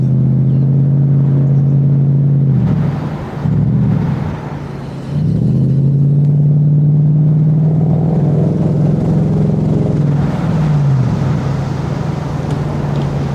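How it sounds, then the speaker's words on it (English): A Lexus SC 430 engine hums steadily from inside the car while driving, its low tone dipping and rising with throttle and gear changes, loud and continuous with no talking. "the car is louder and a little bit more responsive, and yet I'm quite sensitive and I don't press too hard on the throttle"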